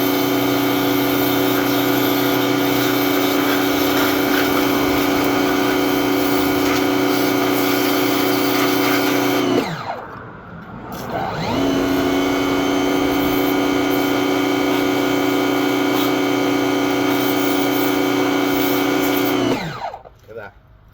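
A jet washer runs loud and steady while cleaning stainless steel flooring trowels, a high motorized whine that cuts out briefly twice and restarts, with no talk over it.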